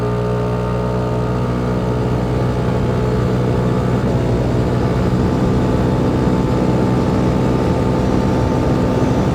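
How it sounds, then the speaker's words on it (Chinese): Kymco G7 scooter engine under full throttle on a mountain road, a loud continuous droning hum that holds steady and close for the whole stretch, with no talking over it. "油门全灌"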